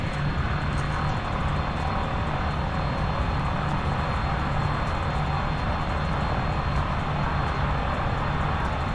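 Turboprop engine of a Cessna C208 Caravan in beta range within the X-Plane 11 flight simulator, a constant loud broadband roar and whine with no change in pitch throughout.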